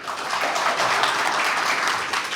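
A crowd of students at a coaching class meet-up breaks into loud, dense applause for their teacher, a continuous roar of clapping that runs through the whole moment without a break.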